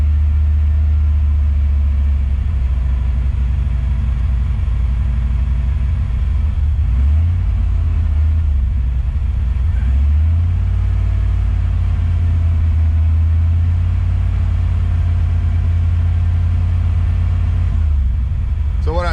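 Engine of an EFI car with an idle control motor, a steady loud low rumble as the throttle is cracked and idle speed rises, close up and continuous with no talking.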